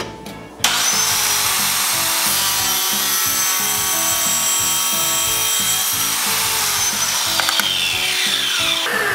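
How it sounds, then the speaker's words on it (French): A water-fed wet tile saw slices through ceramic floor tile with a steady, loud grinding whine and gritty rasp that holds continuously for about eight seconds after a brief quiet start, with no voices. "Une belle coupe parfaite faite avec une scie à eau."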